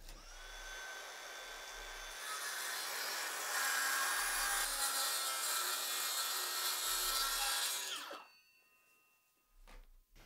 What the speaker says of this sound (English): Now it's as simple as measuring your opening and cutting the panel to size.